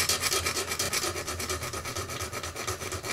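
An SKS rifle bolt being ground down by hand with a file, giving loud, close, rhythmic rasping strokes in quick back-and-forth repetition, with no voices.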